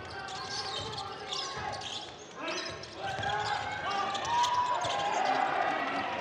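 A basketball is dribbled during a professional game between Minsk and Runa, with repeated bounces echoing in an arena under continuous commentary and a faint crowd murmur.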